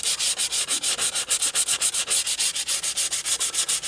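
Sandpaper rubs a slight bevel onto a veneer edge in quick, even back-and-forth strokes, about seven per second, close and loud, a steady hissing scrape with no voices.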